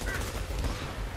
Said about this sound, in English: More gunfire and grenades coming your way.